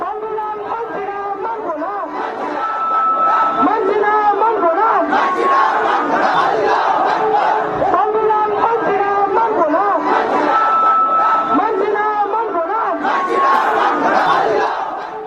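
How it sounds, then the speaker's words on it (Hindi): A large crowd chants political slogans in Bengali, loud and continuous throughout, with rhythmic shouted phrases repeating over a dense babble of voices. "भीड़ नारे लगा रही है, संविधान नहीं मानेंगे।"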